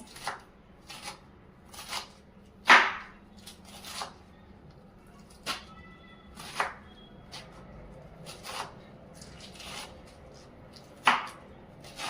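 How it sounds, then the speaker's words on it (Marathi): A knife finely chops fresh spinach on a board. Irregular crisp chopping strikes come close by, with softer rustling and shuffling between the cuts. "अशा पद्धतीने आता आपण हा सगळा पालक चिरून घेत आहोत"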